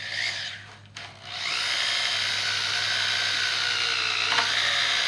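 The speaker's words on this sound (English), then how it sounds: "try pulling it up with the drill and see if it'll just catch and back off the whole thread" A power drill whirs steadily in a pilot hole drilled into a broken exhaust manifold stud, a brief pause near the start, then a sustained high whine trying to catch and back the stud out.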